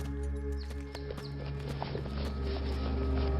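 A horse's hooves clip-clop in a steady walking rhythm at moderate distance, set under a constant loud drone and musical score, with a faint neigh-like sound at one point.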